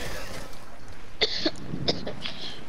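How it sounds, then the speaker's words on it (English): A cartoon character coughing up blood in an animated action scene, a few short harsh coughs rising over a noisy background with no talk. "Coughs up lots of blood."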